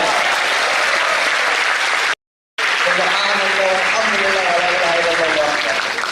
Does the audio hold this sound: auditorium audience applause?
yes